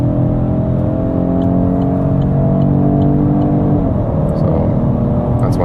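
A petrol-engined car with a turbo accelerating up to 120 km/h, a loud steady engine drone with a rising pitch that shifts once around a gear change, heard from inside the vehicle.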